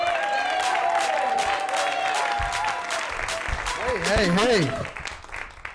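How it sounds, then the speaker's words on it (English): A comedy club audience applauds and whoops as a comedian is introduced on a Chicago stand-up show, steady clapping fading near the end while a voice calls out over it. "Ladies and gentlemen, big round of applause for Nick D."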